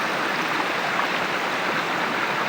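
Steady rushing water of a river tumbling over large rocks, a constant close wash of noise with no voices.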